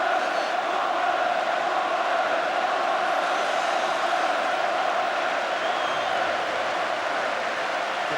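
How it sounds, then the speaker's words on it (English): Large stadium crowd of Everton fans at the 1984 FA Cup Final against Watford, a steady dense roar of cheering and applause filling the whole stretch without letup, broad and distant-sounding. "They're applauding Watford for their parts in this cup final today."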